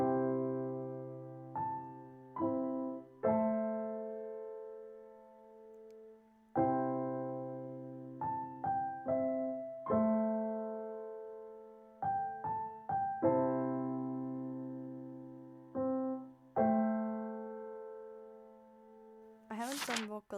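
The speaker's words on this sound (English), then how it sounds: "So it sounds like this, the piano." A piano plays chords and melody notes from a self-written song called "Shy Girl", each struck chord ringing and fading in a slow, steady pattern, close and clean, with a brief vocal sound at the very end.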